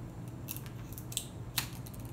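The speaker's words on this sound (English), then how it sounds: "I'm gonna cut like about an inch of a straw maybe" Scissors snip through a short piece of drinking straw, giving a few sharp, faint clicks against a low steady background hum with no talking.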